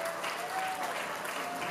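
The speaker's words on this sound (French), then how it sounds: "On nous applaudit s'il vous plaît." An audience at an evangelical anniversary broadcast applauds, a dense, sustained clapping that fills the whole moment evenly and fairly loud, with no pauses.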